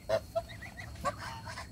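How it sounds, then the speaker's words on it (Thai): Several geese of mixed breeds, including White Chinese, Embden and Toulouse, honk in short, nasal calls, a few loud blasts close by with softer honks and cackles between them. "กลุ่มนี้มีอยู่3สายพันธุ์นะคะมีห่านจีนขาวห่านเอ็มเดนห่านโทเล้า"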